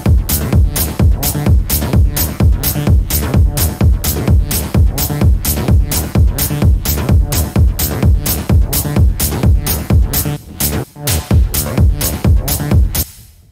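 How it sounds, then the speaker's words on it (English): Driving techno track at 128 BPM built in Ableton, a rumbling parallel-processed bass under steady four-on-the-floor kicks and bright percussion, loud and continuous with a brief dip near the end. "Right now I'm doing 128 BPM,"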